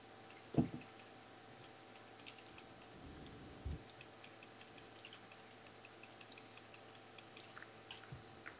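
Rapid keyboard taps and mouse clicks from a StarMade game session patter faintly and continuously over a low hum, with a couple of louder thumps.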